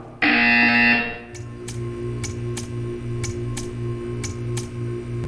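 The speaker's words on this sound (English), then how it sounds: "You will hear a buzzer." A loud, harsh electronic buzzer in the video game Portal 2 sounds for about a second, then stops, leaving a quiet hum with faint, regularly spaced ticks.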